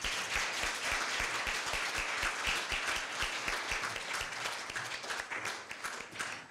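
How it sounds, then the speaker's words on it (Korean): Audience applause at a Korea University evening event, dense sustained clapping from a crowd at moderate distance, steady for several seconds without talk. "한 번 더 박수 부탁드리겠습니다"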